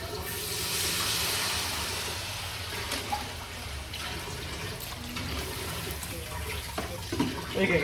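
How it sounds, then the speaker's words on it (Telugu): Water pours steadily with a rushing, splashing sound, as if filling a pot, continuing for several seconds with a few clinks near the end. "నీళ్ళు పోసేయడం ఒకటే బాకీ"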